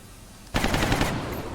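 A sudden burst of rapid automatic gunfire in the turn-based tactics game XCOM: Long War, loud and close, rattling steadily for about a second after a brief quiet lead-in.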